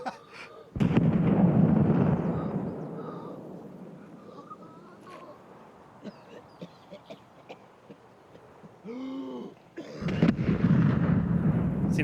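Grenade explosions in a shooter video game, with heavy rumbling blasts near the start and again at the end, separated by quieter scattered clicks and effects.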